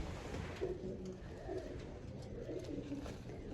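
Pigeons coo softly and repeatedly nearby, low rounded calls over a faint background hum.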